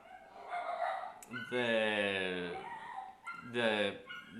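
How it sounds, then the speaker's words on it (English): Neighboring dogs bark and whimper in drawn-out, tonal yelps and whines, moderately loud, in two long cries separated by short sharp barks. "my neighbor's dogs are having a rough time"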